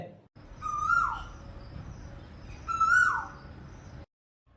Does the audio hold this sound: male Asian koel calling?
yes